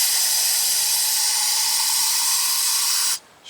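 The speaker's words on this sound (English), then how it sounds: "we're going to put some brake cleaner down inside the bores here" A steady, close aerosol hiss of brake cleaner sprayed into the caliper bracket bores of a 2004 GMC Sierra 2500 continues for about three seconds, then cuts off abruptly.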